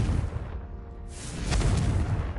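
Confringo fire spell blast in Hogwarts Legacy, a loud booming burst that swells up midway and rumbles on at full strength to the end.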